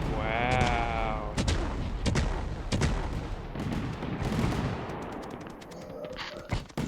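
Fireworks launching and bursting in the video game Fireworks Mania, a dense run of sharp cracks, whistles and booming pops layered over one another, loud and close throughout.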